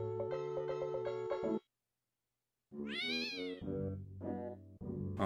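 A cartoonish synthesized cat meowing in the video game Pac-Man 2: The New Adventures, one long tonal yowl, a second of silence, then a rising, wavering series of meows, loud and close.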